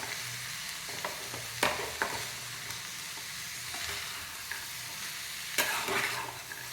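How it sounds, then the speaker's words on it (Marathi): Vegetables fry in hot oil in a pan, with a soft continuous sizzle and a few sharp scraping clacks from stirring, fairly quiet and close. "आता त्याला व्यवस्थित हलवून घ्या आणि छान अशा फ्राय होऊन द्यायचा तेलामध्ये"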